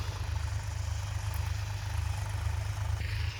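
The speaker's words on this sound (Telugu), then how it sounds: "ఒక ట్రాక్టర్ అయితే గుర్తులు తోలుతుంది, ఒక ట్రాక్టర్ అయితే మిల్లర్ కొడుతుంది" Two tractors working a field being prepared for papaya planting, one marking rows and one tilling, give a steady low diesel drone and rumble that holds at an even level throughout, with no voices.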